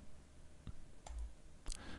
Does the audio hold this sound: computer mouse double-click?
yes